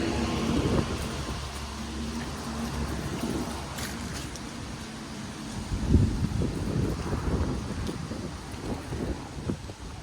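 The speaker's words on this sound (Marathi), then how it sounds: "तर एवढं मस्त हवा सुटते इथे" Wind blows outdoors on a cool autumn day, a steady rushing buffet against the microphone with low gusty rumbles that swell around the middle and then settle, without any talking.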